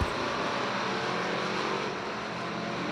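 Factory stock race cars roar around North Alabama Speedway during a feature race, a dense, steady engine drone at a distance that holds throughout without any talk.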